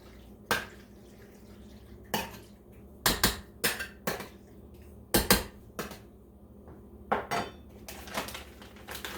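A sausage mixture is stirred in a baking dish, heard as a series of separate sharp clinks and scrapes of a utensil against the dish, some in quick clusters, with near-silence between them and no voices.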